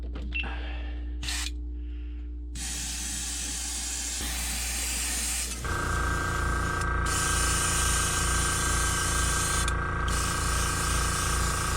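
A paint spray gun hisses steadily while coating a jointed swimbait, with an air compressor running and humming underneath and a few brief breaks in the spray.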